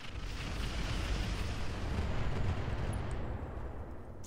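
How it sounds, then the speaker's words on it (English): Incendiary missiles strike in the video game Roguetech, a steady, loud roar of explosions and crackling impacts that rumbles continuously across the whole stretch, then eases slightly at the end. "Incendiary's coming in."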